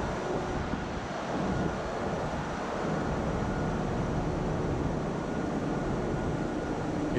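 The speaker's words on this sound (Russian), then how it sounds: "Main engine." A tanker ship's main engine running in the engine room, a steady loud mechanical roar and drone that holds unchanged throughout, dense and enveloping with no talk.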